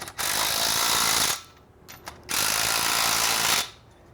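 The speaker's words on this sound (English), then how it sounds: "We're gonna go back to the top beam and we're just gonna tighten those up." A power driver tightens bolts on the top beam of a swing frame in two loud, sustained bursts of about a second each, separated by a short pause with faint clicks.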